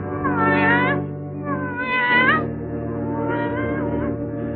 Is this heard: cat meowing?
yes